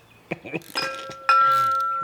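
Loose metal parts of a twin-disc clutch for a Katech LS7 engine, tapped so they ring like chimes, giving a few clear sustained tones after some brief clinks, with faint talk early on.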